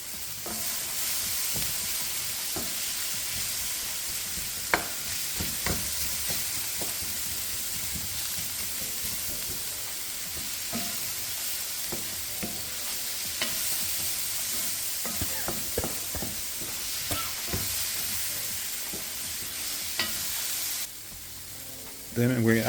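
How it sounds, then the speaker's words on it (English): Onions fry in a hot pan with a continuous loud sizzle and hiss, broken by scattered clicks and scrapes as they are stirred over a long stretch. "Then we're going to add our onions. and just cook them until they're softened."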